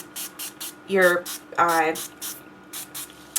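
Series of short, sharp spray bursts of mist onto cardstock in quick succession, each a brief hiss, with a person speaking briefly in between.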